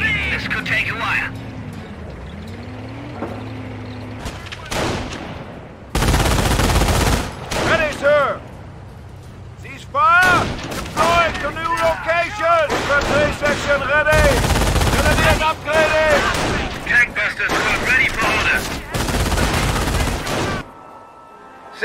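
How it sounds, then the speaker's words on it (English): Small arms fire crackles through a Company of Heroes battle in Operation Market Garden, with bursts and volleys of gunfire repeating loud and close among explosions and battle noise, while voices talk in between. "Taking small arms fire."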